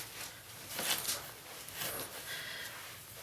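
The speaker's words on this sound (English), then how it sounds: "Hear me digging in the drawer." Rummaging through a drawer full of tissue paper and craft odds and ends for a junk journal, with irregular close rustles and knocks that peak briefly near the middle.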